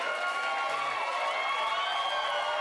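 Studio audience cheers and applauds continuously, a bright, steady wash of clapping and shouting voices at even loudness for a few seconds, with no distinct speech on top.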